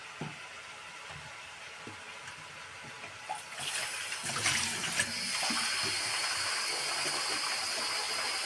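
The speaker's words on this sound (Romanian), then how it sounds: "Acum punem apă" Water poured into a cooking pot in a home kitchen, starting as a faint trickle and then turning to a louder, steady hissing stream that runs on to the end.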